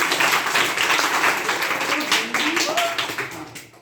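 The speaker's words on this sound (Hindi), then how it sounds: "हफीज के लिए ताली बजाओ।" Classroom clapping for a student, a dense patter of many hands that runs for several seconds and thins toward the end, with a voice speaking faintly underneath.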